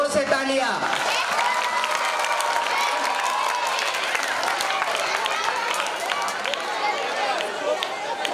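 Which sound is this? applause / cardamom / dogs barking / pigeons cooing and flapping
applause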